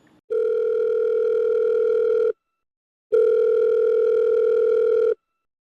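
Telephone ringback tone while placing a call: two long, loud, steady electronic buzzes about two seconds each, separated by a short silence.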